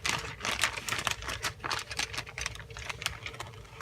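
A plastic bag holding a 1:32 Sopwith F1 Camel model kit is handled close up, giving quiet, continuous crinkling and rustling with small irregular crackles.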